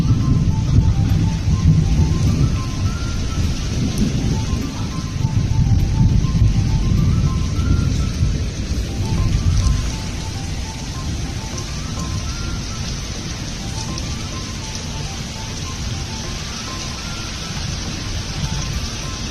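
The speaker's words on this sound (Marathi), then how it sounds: "पाऊस किती जोराचा चालू आहे" Heavy rain pours steadily with low rumbles of thunder mixed in, loudest in the first half and continuing as a constant dense downpour.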